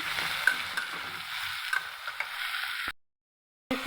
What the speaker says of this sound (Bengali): এখানে দিয়ে দিচ্ছি রসুন কুচি আর গোলমরিচ, দারচিনি, এলাচি নেড়ে দিচ্ছি